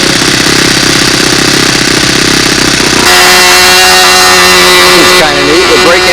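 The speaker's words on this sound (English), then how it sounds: "We're breaking in an engine while we're flying." A model airplane engine being broken in runs loudly during flight, a constant high-pitched buzzing drone that shifts pitch partway through and dominates the whole span.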